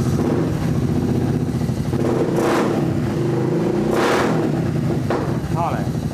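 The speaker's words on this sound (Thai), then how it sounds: "อันนี้เรียกว่าท่อผ่าเปิดแต่เป็นทรงเดิม" A car with an open split exhaust pipe of stock shape revs and rumbles loudly and steadily, with a few sharper rises in engine pitch over the continuous drone.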